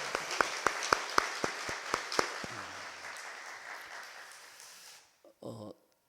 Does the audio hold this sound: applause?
yes